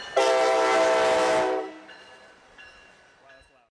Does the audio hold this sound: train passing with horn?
yes